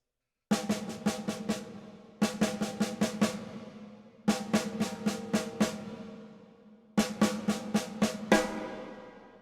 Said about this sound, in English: he plays the paradiddle-diddle again, but just on the snare without any kicks